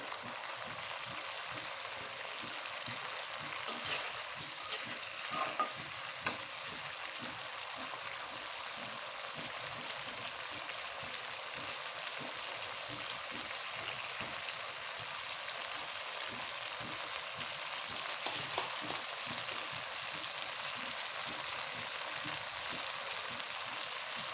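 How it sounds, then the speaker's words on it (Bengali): A spiced egg curry fries in a pan with a soft, continuous sizzle while it is stirred, giving a faint, even crackle with light scraping underneath. "ভালো করে 2 মিনিট নেড়ে নেব"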